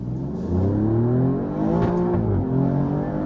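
An Alfa Romeo Giulia Quadrifoglio on KW DDC coilovers does a hard launch in race mode on an open road, its engine roaring loudly with rising harmonics through the gears, steady and close with no talk.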